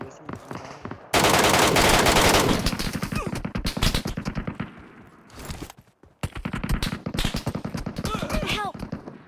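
Automatic gunfire in the PUBG Metro Royale video game: a long sustained burst of rapid shots, then further bursts, with players talking and shouting over the firing.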